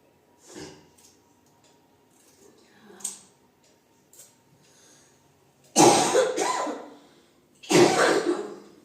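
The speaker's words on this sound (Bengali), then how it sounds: "কাশিও হয়েছে প্রচন্ড" An unwell woman coughs several times during a home haircut: a few lighter coughs first, then two loud, harsh bursts close by.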